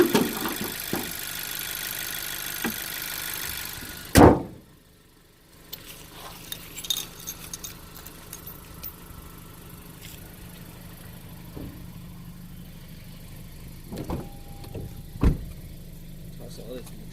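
A 2018 tenth-generation Honda Civic Si fitted with a Torque Solutions spacer runs at a low, steady idle, heard close from around the car, with a sharp thud like a door closing and a few light clicks over the hum.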